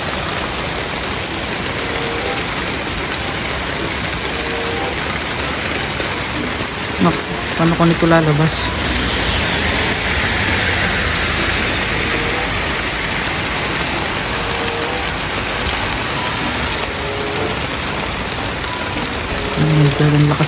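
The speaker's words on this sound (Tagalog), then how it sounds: "ang lakas pala ng ulan" Heavy rain pours steadily in a dense hiss in Smoky Lake, Alberta, with an engine idling nearby and a person speaking briefly over it.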